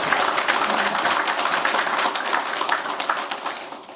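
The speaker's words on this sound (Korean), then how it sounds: "우리 모두 서로에게 고생했다고 격려의 박수 한번 쳐주시기 바랍니다." Council members and attendees at the close of a Jangseong County Council session give a round of encouraging applause, steady and moderately loud, thinning slightly toward the end.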